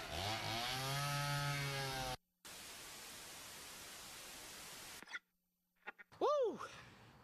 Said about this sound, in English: We're going to carve it using my favorite tool, a chainsaw.